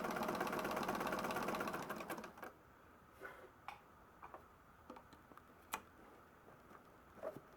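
A restored Singer 99 sewing machine stitches waxed canvas in a fast rhythmic run for about two seconds, then stops. Scattered clicks and handling knocks follow.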